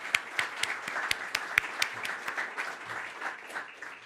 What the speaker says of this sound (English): So I have to stop there for a round of applause.